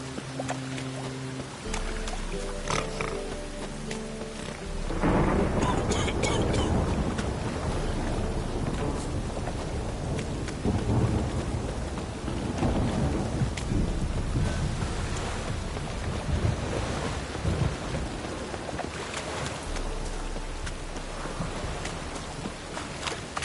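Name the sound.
rain and thunderstorm in video game Witcher 3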